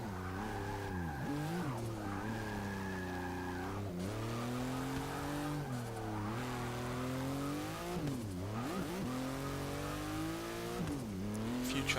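A 1963 Volkswagen Beetle in Forza 6 revs loudly and continuously, its engine pitch sweeping up and down through repeated gear changes as the tires squeal and skid.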